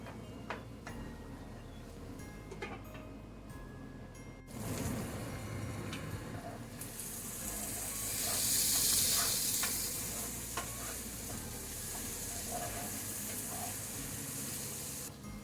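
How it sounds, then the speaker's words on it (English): Sweet potatoes fry in a pan with a continuous sizzle and crackle, the hiss swelling louder partway through, with occasional stirring clicks and no voices. "we're going to cook this until we can easily pierce the sweet potatoes with a fork"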